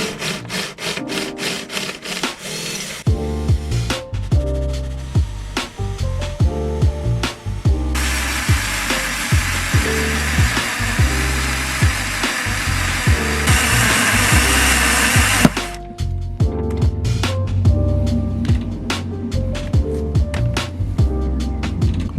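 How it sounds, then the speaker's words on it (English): An electric drill with a 6.5 mm bit bores into a bolt head, making a harsh metallic grinding that stutters in short bursts, then runs steadily for several seconds before breaking into bursts again. "I'll just drill that into the bolt a little bit"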